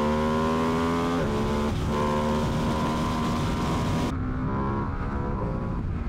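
A Ducati Panigale V2S or Streetfighter V2S motorcycle engine accelerating hard, loud close-up roar with pitch climbing through several gear changes, heard alone over rushing wind.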